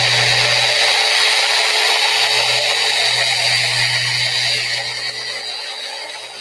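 Power sander with 120-grit paper working lightly back and forth over the old finish on a wooden table: a loud, continuous whirring drone close by that eases off slightly near the end.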